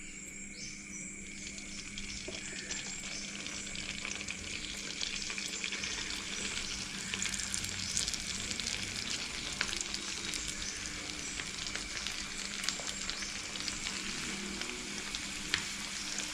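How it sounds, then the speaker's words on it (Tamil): Dough balls of sweet seedai made with maida, deep-frying in hot oil in a kadai over low flame, a dense continuous sizzle and bubbling that stays even and close throughout with no talking. "இப்போ இந்த சீடைகளை ஒன்று ஒன்றா போட்டுக்கலாம்"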